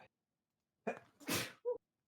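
A single sharp sneeze bursts out after a short breathy intake, followed by a brief vocal sound; otherwise quiet.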